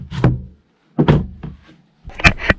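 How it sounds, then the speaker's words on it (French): The refrigerator door in a Corbin sailboat galley is handled, producing three close, distinct thunks and knocks separated by short pauses. "Ça, c'est le frigo."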